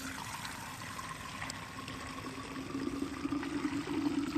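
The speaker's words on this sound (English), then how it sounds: "I think it's a good time to pour it out and check what's in the gas tank." Old gasoline pours steadily out of the fuel tank of a Husqvarna backpack blower, a continuous near trickle and splash that grows slightly louder and fuller toward the end, with no talking.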